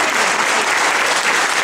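Dense, even applause from a concert audience at a Christmas carol concert, loud and continuous from start to finish.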